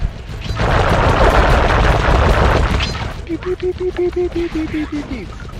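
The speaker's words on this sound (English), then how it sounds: "So, so it's time for a shooting again." Rapid bursts of video game gunfire from Sly Cooper and the Thievius Raccoonus, dense and loud for about three seconds, then giving way to a run of short, evenly spaced electronic tones.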